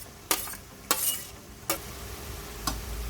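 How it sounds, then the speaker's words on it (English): Okra and fried onion being stirred into cooked masala in a pot, four distinct spoon scrapes and knocks spaced about a second apart over a faint low sizzle, close by. "So now mixing the bhindi and onions"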